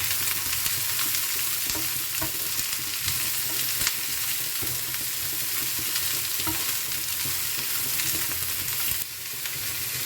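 Thinly sliced teasel gourd (kakrol) sizzles and fries steadily in a pan, with occasional stirring scrapes and clicks over a continuous hiss, with no talking.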